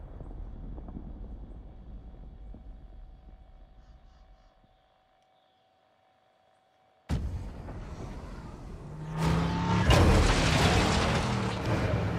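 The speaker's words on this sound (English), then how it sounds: "I want the airstrike here. Got your request. Cluster strike." Cluster airstrike in Call of Duty Warzone on the Caldera map: after a quiet stretch, a sudden loud blast opens a dense run of rumbling explosions that build and stay heavy to the end.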